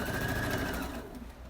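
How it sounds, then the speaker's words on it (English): A sewing machine runs a quarter-inch quilt seam in a steady, close, fast-stitching whir that slows and fades near the end, with no voices. "I'm going to take it over to the machine. And I'm doing a 1/4 inch stitch."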